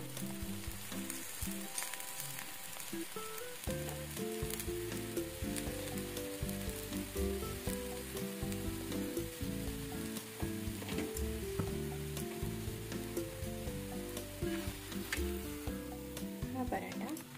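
A cucumber thalipeeth flatbread sizzles and fries steadily in a pan, making a continuous crackling hiss under background music, with no voices.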